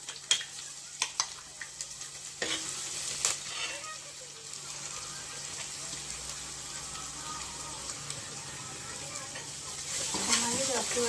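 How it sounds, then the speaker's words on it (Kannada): Roasted rasam masala goes into hot oil in a clay pot for Tamil Nadu style hulikalu rasam, with a soft sizzle, scraping stirs and a few sharp clinks, quiet and steady throughout. "ಈಗ ನಾವು ಹುರಿಬಿಟ್ಟಿರೋಂಥ ಮಸಾಲೆ ಎಲ್ಲ ಹಾಕ್ಕೊಳ್ಳೋಣ"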